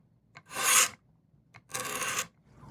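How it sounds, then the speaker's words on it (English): A hand scraper rasps down the wooden side of a late 19th-century two-tier dumbwaiter, two close, dry strokes about a second apart with short pauses between them. "I'm using the scraper straight down this side."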